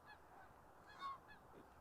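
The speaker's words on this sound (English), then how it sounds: "And then there's geese. There's always geese." Geese honk overhead above a partly frozen park pond on a late-November walk, several faint, distant nasal calls in a loose sequence, the middle honk slightly louder, with no talking.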